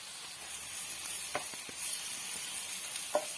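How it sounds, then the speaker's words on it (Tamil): Ginger garlic paste frying in a pan for Tamil prawn thokku, giving a steady soft sizzle with a few light stirring clinks, alone and fairly quiet. "இஞ்சி பூண்டு பேஸ்ட்டும் நல்லா வதங்கட்டும்"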